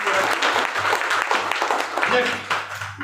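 Audience applause at a Hindi-language health products talk, loud clapping in uneven bursts that swells and dips, with a voice and some chatter mixed in underneath.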